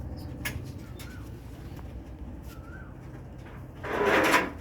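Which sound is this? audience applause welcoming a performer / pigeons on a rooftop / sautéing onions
pigeons on a rooftop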